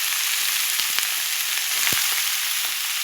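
Steady, dense sizzle of vegetables frying in hot oil, with a few soft clicks and a low thump near the middle.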